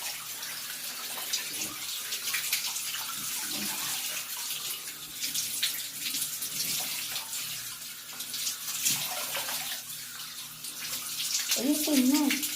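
A newly installed shower runs in a steady hiss of spraying water, moderately faint, with brief clattering, and a voice speaks near the end.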